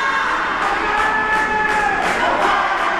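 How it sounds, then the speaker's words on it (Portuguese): Football crowd at an amateur league final in São Caetano, a dense continuous roar of cheering and chanting fans with whistles and shouts, loud and steady throughout. "Vocês já viram a torcida mais animada que essa?"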